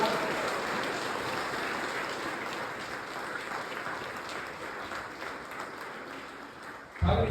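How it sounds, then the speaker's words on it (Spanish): A church congregation applauds at a Sunday service, a sustained wash of many hands clapping at moderate distance, steady and fairly quiet, fading slightly before a brief louder burst at the end. "Así que den un aplauso a Dios otra vez."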